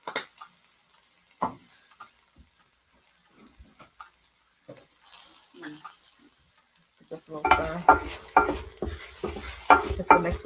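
Spices being stirred into onions and shallots in a pot for potato soup: quiet scraping at first, then louder rhythmic stirring knocks over a soft sizzle near the end.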